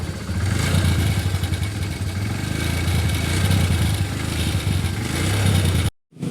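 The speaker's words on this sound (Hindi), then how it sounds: "होंडा गाड़ी में सबसे ज़्यादा आवाज़ आने पर इंजन इसका ख़राब हो जाता है।" Hero Honda motorcycle engine running with an abnormal mechanical noise, a steady loud rumble with clattering texture throughout, close by, cutting off abruptly near the end with no talk.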